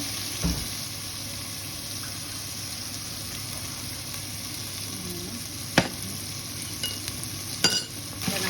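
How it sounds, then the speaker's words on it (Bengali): Chicken curry masala sizzles softly and steadily in a pan close by, with a few sharp clacks and scrapes of a stirring spoon toward the end, no talk. "এখানে একটু ভালো করে কষাইব।"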